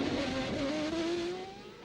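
Formula One race cars scream along a straight, a sustained high engine whine with a slowly falling pitch as they pass and fade slightly toward the end.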